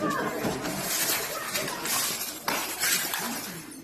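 Glass shatters and crunches as a wrestler crashes back first into broken glass during an SNEW match, a dense burst of breaking shards with a sharper crash near the middle, amid loud arena crowd noise.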